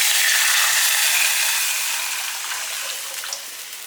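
Rasam is poured into a pan of hot tempering on a stove turned low, giving a steady rushing, splashing hiss that slowly eases off toward the end.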